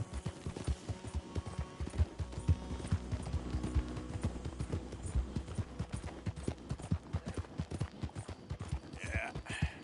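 Steady clip-clop of a mare's hooves walking in Red Dead Redemption 2, a rhythmic stream of close, even hoofbeats over a low background hum, with no talk.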